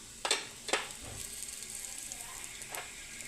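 Whole garam masala spices such as star anise and cinnamon hit hot oil for tomato rice, giving a steady low sizzle broken by a few sharp crackling bursts as pieces drop in.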